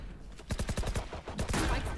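Gunfire in the tactical shooter Valorant: a quick, close burst of sharp shots crackles out, a short pause follows, then another cluster of loud reports, with faint game ambience underneath.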